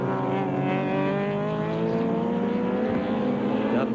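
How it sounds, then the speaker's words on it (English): A BMW touring car comes off the throttle under heavy braking at Oran Park during the 1991 Australian Touring Car Championship, its engine note falling and burbling, loud and close, with other race cars audible nearby. "unmistakable sound of the BMW under brakes"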